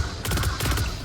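Rapid automatic gunfire in the shooter game Destiny 2, a quick burst of about eight sharp evenly spaced shots over a constant low rumble, close and loud.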